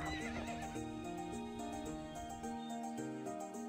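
A horse in the video game To The Moon neighs and whinnies repeatedly with clip-clop hooves, set against game background music with sustained tones.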